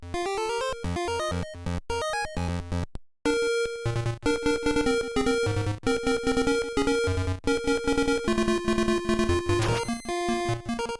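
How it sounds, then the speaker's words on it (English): Game Boy chiptune intro and title theme from Link's Awakening, with rapid bright square-wave arpeggios, then a brief pause and a steady melody over pulsing bass notes, loud and continuous. "Ryo Nagamatsu started with the intro and title theme, which sound like this on the Game Boy."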